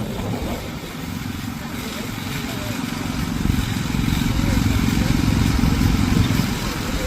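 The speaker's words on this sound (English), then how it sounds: "Single cylinder petrol engine in there." Small tractor with a single-cylinder petrol engine running steadily nearby at a steam show, a loud continuous throbbing drone with no breaks.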